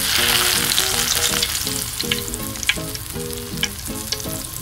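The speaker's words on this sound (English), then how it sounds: "When the oil is hot, put the meat into fry." Meat frying in hot oil in a pan, a loud continuous sizzle and crackle close by with occasional pops, while background music plays.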